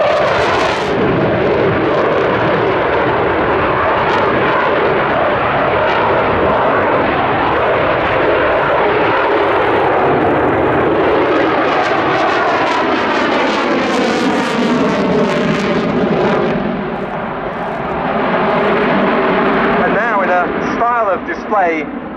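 Rafale fighter jets of the French Navy sweep in for an opposition break at Yeovilton Air Day, a loud, sustained jet roar that swells and shifts in pitch as they pass, with a commentator talking over it throughout.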